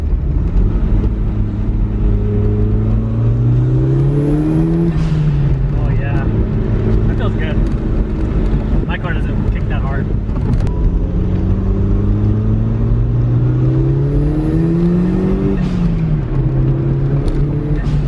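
A turbocharged 90s Japanese sports car engine, a Celica GT4 or MR2, pulls hard through two long accelerating climbs with gear changes, heard from inside the cabin while occupants talk.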